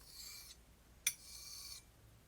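A straight razor, a Thiers-Issard Le Grelot with snakewood scales, is honed on a sharpening stone, giving two quiet rasping strokes with a brief sharp click between them, close and faint.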